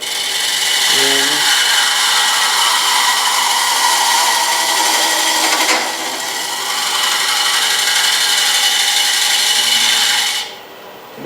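A carbide cutter shears a wooden urn spinning on a lathe, making a loud, continuous hissing scrape that stays nearly steady, dips briefly midway and cuts off just before the end.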